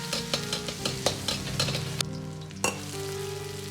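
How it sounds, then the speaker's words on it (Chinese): Ginger and garlic stir-fried in hot scallion oil in a wok, giving rapid rhythmic scraping and tossing strokes over a continuous sizzle, with a brief quieter gap before the frying picks up again. "油热后先下入姜蒜，"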